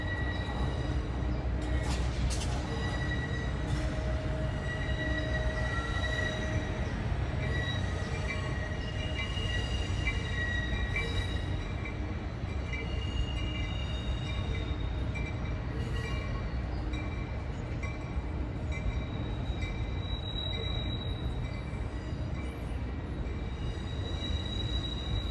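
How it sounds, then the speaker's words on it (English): An Amtrak Surfliner passenger train pulls into LA Union Station, a steady rumbling roll with metallic wheel squeal and rail clatter that stays loud and continuous throughout, with no voices over it. "Looks like another Surfliner is arriving as well"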